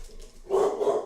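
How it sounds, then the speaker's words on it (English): A dog barks at someone at the door, with a couple of muffled, fairly loud barks from another room after a softer opening, indoors. "dog is freaking out because there's somebody not at my door"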